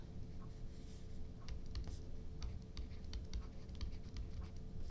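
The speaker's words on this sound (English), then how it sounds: "Let's write that down." Writing by hand, a pen or pencil scratching out a number in short strokes, faint and close, over a steady low background hum.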